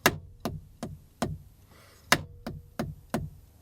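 Sharp snare drum strokes hit in a steady pattern, each loud backbeat crack followed by three quieter ghost-note taps, with no talking.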